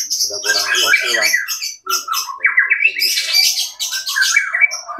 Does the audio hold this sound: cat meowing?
no